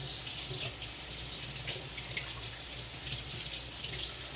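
Vegetables and greens are rinsed under a running kitchen tap, giving a loud, continuous, close water flow with slight splashing throughout and no talking.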